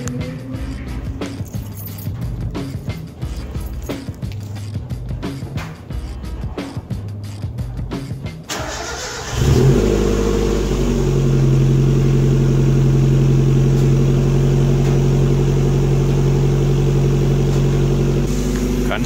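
A 1994 Mazda Miata with a Jackson Racing header cranks in a rapid stutter, catches and settles into a loud, steady idle with a droning exhaust tone, close by.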